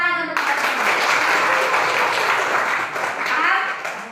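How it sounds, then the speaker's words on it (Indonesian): Classroom students applaud together in a biology lesson, dense steady clapping filling the room for about four seconds, with voices mixed in underneath. "Tepuk tangan untuk kita semua."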